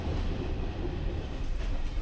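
Inside a wrecked carriage of an Albanian passenger train trundling slowly along the tracks, a steady low rumble and rattle fill the space, close and continuous with no talking.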